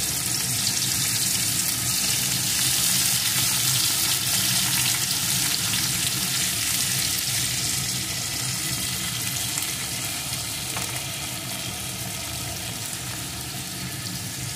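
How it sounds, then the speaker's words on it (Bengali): Bitter gourd pieces fry in a pan of oil, a steady, loud, close sizzle with crackling that holds for the whole stretch and eases off slightly toward the end, with no talking. "এখন আমি এই তেলের ভিতরে ওই উচ্ছেগুলোকে দিয়ে ভেজে নেব।"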